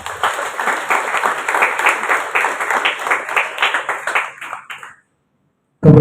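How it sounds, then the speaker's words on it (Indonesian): A school audience at the opening of student orientation at SMAN 6 Kota Bekasi claps steadily for about five seconds, a dense, lively applause that then stops abruptly into silence before a brief loud burst. "Tepuk tangan untuk kalian semua."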